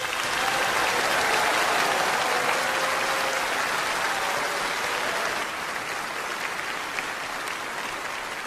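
Sustained applause fills a hall at the 2023 Nobel Prize ceremony, a broad, loud crowd clapping with steady intensity, easing slightly in its second half but continuing without pause.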